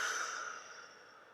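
A deep exhale during a yoga lizard pose, one long, soft, breathy release close by that slowly fades out, with no talking.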